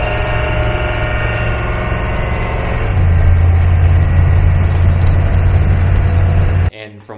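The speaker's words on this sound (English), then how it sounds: "it's almost all engine noise and drivetrain noise" Cabin noise inside a military Humvee used as a daily driver: loud, constant low engine and drivetrain drone that deepens and grows heavier midway, filling the interior before cutting off abruptly at the end.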